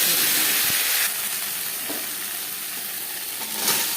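Dried red chilli, cumin seed, ginger and green chilli frying in hot oil in a pan, cooking a Bengali fish dish, giving a steady close sizzle with a brief louder burst near the end.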